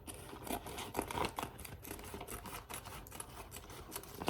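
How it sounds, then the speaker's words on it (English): Small kitchen scissors trimming the excess plastic off a sealed bag, a run of quick soft snips and crinkles close to the microphone, fairly quiet with no talking. "Gonna get the little scissors"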